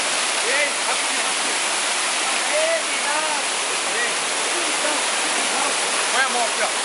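A waterfall in Valentim, Bahia, pours as a loud, constant close-up roar of rushing water, with faint voices calling out over it.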